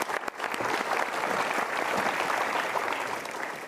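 A studio audience at an Indonesian motivational talk show breaks into a full, dense round of applause that holds steady and loud throughout.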